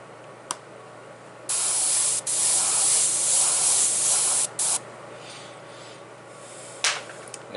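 A Timbertech airbrush sprays paint through a stencil. The bright hissing bursts start and stop sharply, with a long spray of about three seconds, a shorter puff after it and a quick blast near the end.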